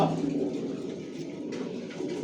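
Soft, low cooing from several racing pigeons in a loft overlaps continuously, close by and fairly quiet, with faint rustling in the background.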